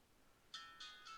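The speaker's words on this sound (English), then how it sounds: "Sorry about my phone chirping off there." Mobile phone ringtone, three short bright chirping tones in quick succession, faint against a quiet background.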